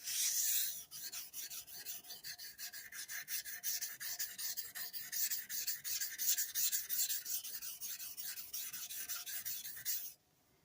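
A knife edge is stroked rapidly back and forth across a 1000 grit vitrified diamond sharpening stone, a close, steady, gritty rasping rhythm of many quick passes that stops abruptly near the end.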